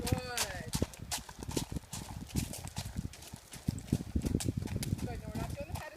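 A horse's hooves clip-clop steadily and close by as it is worked in a circle, a continuous rhythmic patter of footfalls with occasional low vocal sounds, under a trainer's talk.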